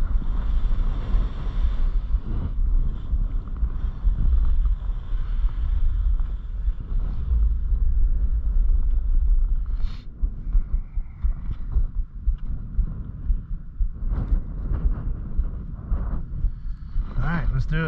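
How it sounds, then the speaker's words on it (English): Strong wind at the Beaver Creek Birds of Prey ski course roars and buffets the microphone in low, uneven gusts, with some faint talk and rustling mixed in. "Pretty windy."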